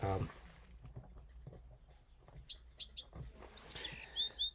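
A wren song resembling a Bewick's Wren plays faintly, with a few short introductory notes followed by quick high chirps and a trill near the end, over quiet background ticking.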